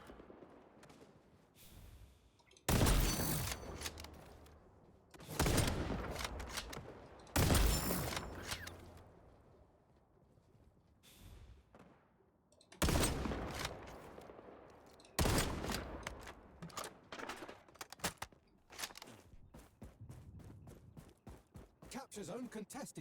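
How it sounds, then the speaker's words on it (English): Heavy sniper rifle shots ring out in an XDefiant match, five or six loud cracks spaced a few seconds apart, with game sounds and someone talking in the gaps between them. "Let's borrow this dude's sniper rifle."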